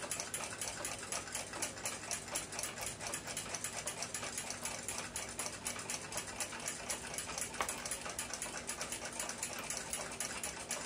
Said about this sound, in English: Mounted in the lathe, the swaged brass can be safely and easily hand cut until it can be separated.